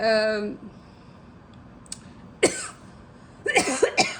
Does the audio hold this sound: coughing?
yes